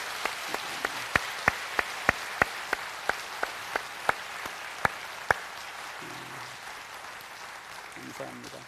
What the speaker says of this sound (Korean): 우리 격려의 박수 한번 하겠습니다.